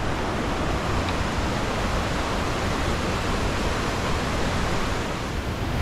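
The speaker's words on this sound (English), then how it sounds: "Waterfall was just so unexpected. I had no idea this was here." A waterfall along the West Highland Way in Scotland pours with a steady, dense roar that stays loud and unbroken throughout, with no voices.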